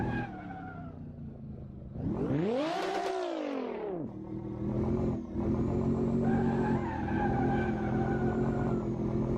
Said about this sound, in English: Oh, too much throttling.